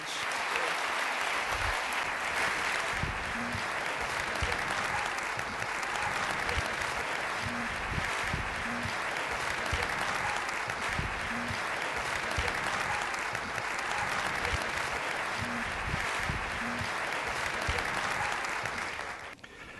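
An opera house audience applauds steadily and loudly as speakers are welcomed to the stage, a dense sustained wash of clapping lasting nearly twenty seconds before fading out.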